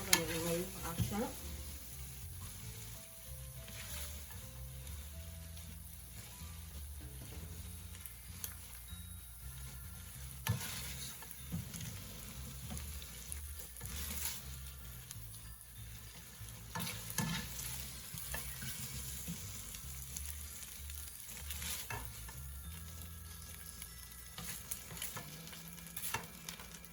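Cauliflower shrimp fried rice frying in a pan, a steady close sizzle with scraping and clinking as it is stirred throughout, no talking.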